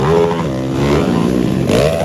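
Motorcycle engine revving hard during the last lap of a motorcycle race final, a loud, continuous, close buzzing drone that rises and falls in pitch as the throttle changes, with no break throughout.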